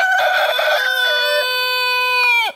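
A silkie rooster crows once, loud and close, a long harmonic call held for over two seconds before cutting off sharply, alone without talk.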